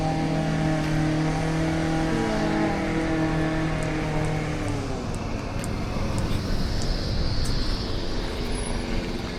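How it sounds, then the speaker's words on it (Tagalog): A bus pulls in on a cold 10-degree day, its engine note rising and falling as it draws near, with broadband road and motor rumble filling the scene. "Ayan na yung bus."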